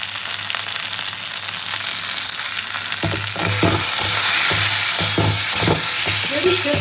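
Boiled taro frying with turmeric and salt in a pan: steady loud sizzle throughout, with a burst of repeated stirring scrapes and louder crackling in the second half, no talk.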